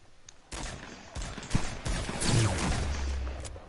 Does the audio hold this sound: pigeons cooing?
no